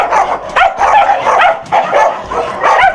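A dog at an adoption shelter barks and yips repeatedly in close, loud bursts, some with a whimpering edge, in an uneven rhythm across the whole stretch.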